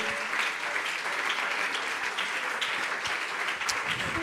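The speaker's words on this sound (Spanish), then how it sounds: "Dele mejor ese aplauso al Señor." A congregation claps in church, sustained broadband applause from many people at an even level, a few sharper individual claps standing out from the wash of hands.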